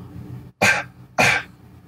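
Two short, punchy cough-like bursts, evenly spaced and close, a voice imitating a snare drum hit.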